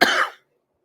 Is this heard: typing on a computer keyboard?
no